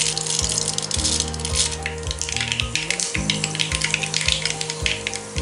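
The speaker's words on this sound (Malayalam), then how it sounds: "ഇനി ഇതിലേക്ക് 1/4 ടീസ്പൂൺ കടുക് ചേർത്തൊന്ന് പൊട്ടിച്ചെടുക്കാം." A quarter teaspoon of mustard seeds splutters in three tablespoons of hot coconut oil for a fish curry. The close, dense crackle and popping runs without pause over a low repeating hum.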